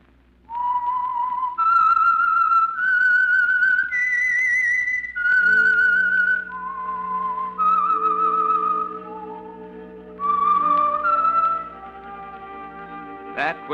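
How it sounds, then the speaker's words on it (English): A person whistles the theme signal of The Whistler radio program, a slow, eerie melody of sustained notes rising and falling over a soft orchestral backing, loud and close. "That whistle is your signal for the Signal Oil program, The Whistler."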